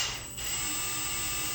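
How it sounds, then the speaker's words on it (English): A steady electric drill whine bores through a liquid culture jar lid, holding a continuous tone at close range with a brief dip near the start and no talking. "when you drill your hole, you want to apply a decent amount of pressure and drill slowly"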